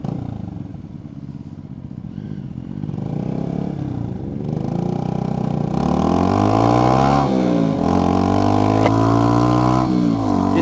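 A Sinnis Hoodlum motorcycle engine revs, starting at a steady throb and climbing through repeated rising and falling revs, loud and close with no talk.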